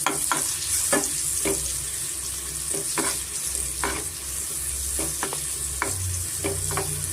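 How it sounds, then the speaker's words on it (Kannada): Elakki bananas frying in ghee in a pan, a steady soft sizzle underneath repeated scraping and stirring strokes from a spatula, close by and with no voices. "ಏಲಕ್ಕಿ ಬಾಳೆಹಣ್ಣು, ಅದನ್ನು ನಾನು ಸ್ವಲ್ಪ ತುಪ್ಪದಲ್ಲಿ ಚೆನ್ನಾಗಿ ಫ್ರೈ ಮಾಡ್ಕೊತಾ ಇದ್ದೀನಿ."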